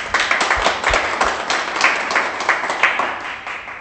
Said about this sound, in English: I think we need to give ourselves a round of applause